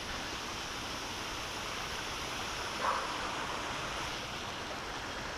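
Creek water in a backyard after flood damage flows in a steady broadband rush, constant and fairly strong, with one brief faint tone near the middle and no talk.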